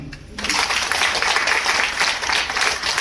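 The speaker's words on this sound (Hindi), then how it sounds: "मैं चाहूंगा एक बार जोरा ताली।" After a brief quieter moment, a seminar audience breaks into dense, sustained applause, many hands clapping steadily and fairly close.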